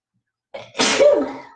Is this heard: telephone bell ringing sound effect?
no